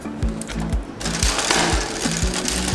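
A bicycle's chain and crank are turned while chain oil is applied, giving a rhythmic mechanical clicking and ticking that repeats at a steady pace at close range, with a faint rustle beneath.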